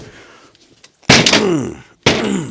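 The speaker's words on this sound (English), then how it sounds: "Dang, now the door won't shut." A car door slammed with a loud, close thunk, then a second hard slam moments later after faint rustling, with no voices.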